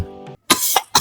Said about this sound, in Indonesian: Juga gue batuk-batuk juga nih.